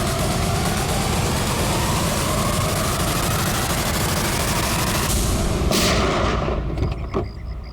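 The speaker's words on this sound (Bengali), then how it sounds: "নাও রিভলভার আর চালাও গুলি।" A revolver fired in a crime drama produces a dense, loud, continuous roar of gunfire-like blasts that sustains for several seconds, then cuts off abruptly into quieter trailing noise.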